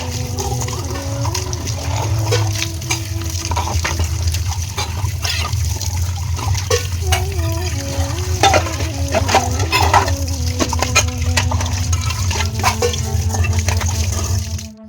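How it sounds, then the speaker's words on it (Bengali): A wok (kadai) being scrubbed and rinsed outdoors in the rain, with continuous splashing, trickling water and scraping strokes over a steady wash of rainfall, plus a few brief tonal sounds in the mix. "কড়াইটা মেজে ধুয়ে নিলাম"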